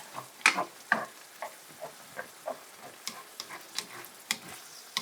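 Beef browning in a pan, with soft, intermittent sizzling and a series of light scraping stir strokes at a fairly regular pace, quiet and close.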